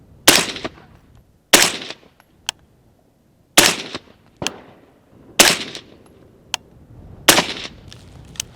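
A 5.56 rifle firing Hornady Black 62 grain rounds at a range, six loud, sharp shots spaced about a second or two apart, each followed by a short echo, with no talk.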